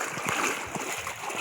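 Flood water splashing and churning continuously in a flooded area of Kenitra province, Morocco, a dense broadband wash with a voice faintly under it.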